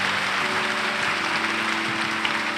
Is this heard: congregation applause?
yes